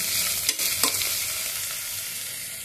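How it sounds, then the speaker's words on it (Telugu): Amaranth leaves sizzle and fry in a pan with ginger-garlic paste, a steady close hiss with a couple of brief stirring scrapes, no talking. "ముందుగా కడిగి శుభ్రంగా పెట్టుకున్న తోటకూరను కొంచెం కొంచెంగా తీసుకుని మన పాన్లో వేసుకోవాలి ఫ్రెండ్స్"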